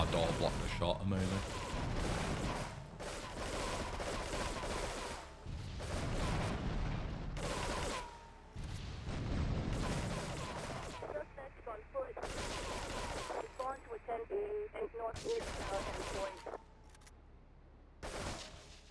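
Repeated bursts of gunfire in GTA Frosted Winter: Remastered, a modded winter version of Grand Theft Auto, come in loud, dense volleys with short pauses. Someone talks over and between the shots.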